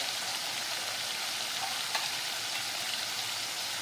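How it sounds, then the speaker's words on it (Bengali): Ground cumin paste fries in a pan for a fish curry, giving a loud, dense, even sizzle that holds steady with no talking. "এবার আমি কষিয়ে নেব জিরে বাটাটা"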